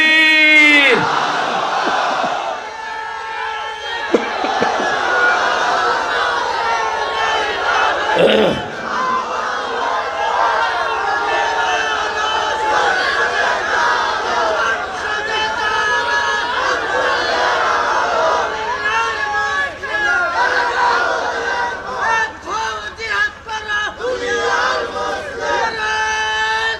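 Large crowd at a night religious gathering in Chattogram chanting the takbir slogan in rhythmic call-and-response, loud massed voices bellowing together in repeated surges that fill the whole stretch.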